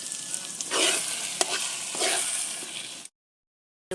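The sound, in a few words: stirring garlic in chili oil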